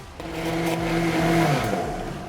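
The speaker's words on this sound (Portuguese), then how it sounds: "você pode continuar batendo com o liquidificador em trabalho" A kitchen blender whirs steadily, mixing chocolate cake batter while oil and water are added, a close, loud, continuous motor hum with shifting pitch and no talk.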